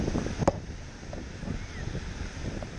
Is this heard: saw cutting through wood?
no